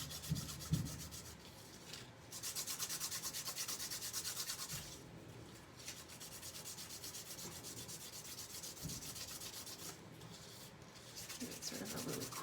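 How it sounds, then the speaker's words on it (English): Light hand sanding along the wood grain of an embossed surface made with an embossing folder, soft close rubbing strokes in a few long passes broken by short pauses, faint and quiet. "you can just add a little more interest with sort of sanding it just a little bit"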